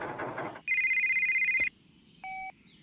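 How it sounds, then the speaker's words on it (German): A mobile phone rings with a steady electronic tone held for about a second, then a shorter two-tone burst, after a brief noisy rustle at the start. "Was läutet denn? Oh, da liegt noch ein Handy"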